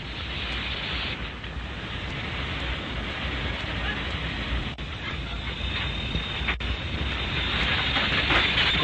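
A loud, continuous rumble and roar of a heavy ore train rolling along the rails, with a constant hiss and no pause throughout.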